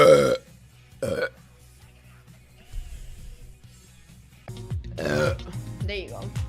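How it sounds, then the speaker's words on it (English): Loud, deep burps from a woman, a short one at the start, another about a second in, then a longer drawn-out belch with vocal tones near the end, separated by quiet room sound and faint background noise. "Do you guys like burps?"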